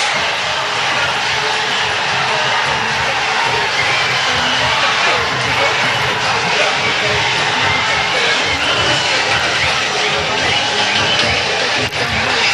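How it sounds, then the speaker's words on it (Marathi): A loud, dense crowd roars and cheers at a Govinda troupe's human-pyramid celebration in Alibag, a steady wall of massed voices and noise throughout with talking mixed in. "आणि आपल्या यशाचा जल्लोष"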